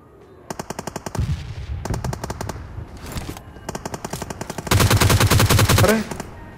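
Automatic gunfire in BGMI, a mobile battle royale game: several close, loud bursts of rapid shots separated by short pauses, with the longest and heaviest burst near the end.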